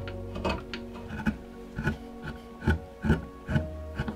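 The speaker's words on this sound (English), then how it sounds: "I end up using smaller and smaller chisels to try and capture all those little bits of detail within the angel." Hand chisels carve detail into a wooden angel figure, giving short irregular scraping and tapping strokes, several per second, close and moderately loud with no talking.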